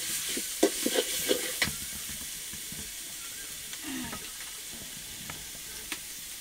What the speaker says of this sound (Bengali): পেঁয়াজ কুচি আর রসুন কুচিটাকে অল্প একটু তেলে ভেজে নিচ্ছি।